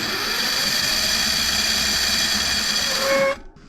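A car alternator rigged as a bicycle motor runs at high speed with a loud, steady electric whine and hum, then cuts off abruptly near the end.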